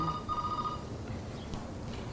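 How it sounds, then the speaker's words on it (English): A telephone rings briefly at the start, a steady electronic trill that fades out within the first second, followed by a quiet room background. "Isn't that our phone?"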